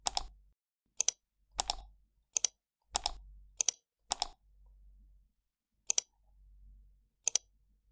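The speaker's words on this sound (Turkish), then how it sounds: "Fare sağ tuşuna tıklandığında farklı bir ses dosyası çalsın." Sharp computer-generated click sounds fire on mouse button presses under an AutoHotkey script, arriving as single and paired clicks at irregular intervals, some with a faint low thump between them, with silence in between.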